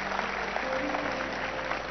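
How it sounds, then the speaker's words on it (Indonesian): Church congregation clapping during a sermon, a faint, dense patter of many hands heard at a distance in a large hall, with a low hum underneath. "Ayo tepuk tangan yang benar-benar mau tepuk tangan."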